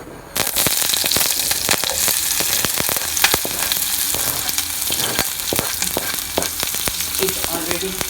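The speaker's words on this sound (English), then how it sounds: "Now that is frying, we are going to add our onions and chilies to it." Steady hiss of onions and chilies frying in a hot pan, with dense crackling and spitting pops throughout, close and fairly loud.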